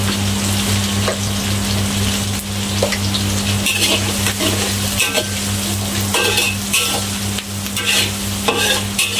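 Salted vegetables are stirred and fried in a pan, giving a loud, dense, steady sizzle close up. Frequent spatula scrapes and clatters run over a constant low stove hum.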